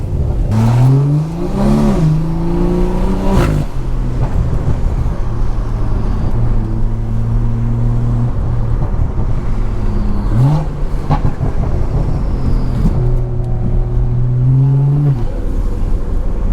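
A BMW 340i with a B58 engine revs repeatedly from the driver's seat, rising and falling in loud, close sweeps punctuated by sharp exhaust pops and burbles between throttle blips, with no talking.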